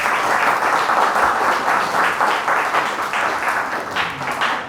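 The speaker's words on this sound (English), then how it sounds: "Give yourselves a big round of applause" A room full of participants at an enterprise challenge launch gives itself a big, sustained round of applause, dense clapping holding steady for nearly five seconds before tapering slightly.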